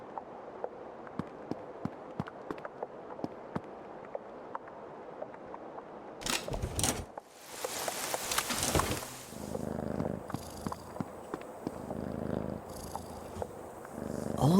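A cat purring steadily in the horror video game Creepy Tale 2, a soft continuous rumble with small clicks and footstep-like taps, interrupted midway by a louder rushing burst.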